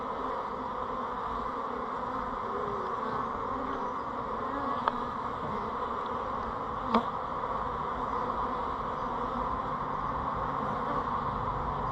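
Honeybees from a torn-apart box hive hum as a loud, steady swarm drone, dense and continuous throughout, with a couple of faint clicks and no voices.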